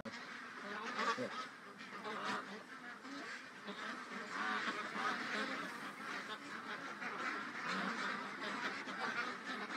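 A whole flock of ducks moves together outdoors, a dense continuous wash of quacks and calls at moderate distance, steady for about ten seconds with no clear breaks and little talk over it.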